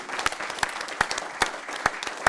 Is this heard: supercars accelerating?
no